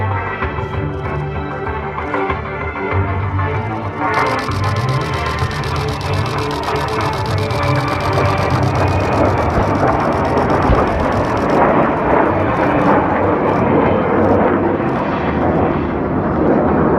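F/A-18 Hornet jet diving in for an attack run during a Marine air-ground task force demonstration at the Iwakuni Friendship Day 2018 air show, a loud, continuous roar that swells and stays heavy throughout, with a brighter hiss in the middle.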